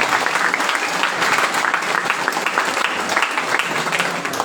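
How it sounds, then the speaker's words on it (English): An audience applauds after a speech at a college event, a loud, close wash of many clapping hands with distinct individual claps, sustained evenly and dipping slightly at the end. "Big round of applause."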